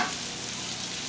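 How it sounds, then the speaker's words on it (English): Seafood fried rice sizzles steadily in a pan, a loud continuous frying hiss with faint stirring scrapes, no voices. "keep on frying rice"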